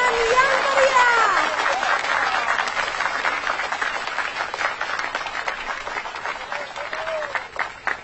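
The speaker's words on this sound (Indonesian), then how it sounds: "Dan mari kita sambut dengan tepuk tangan yang meriah." Audience applause at a birthday celebration, a dense steady clapping that carries on for several seconds and slowly thins out, with faint voices mixed in.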